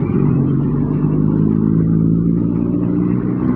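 A motorcycle engine drones steadily and close for the whole stretch, with a low, even rumble that neither rises nor fades.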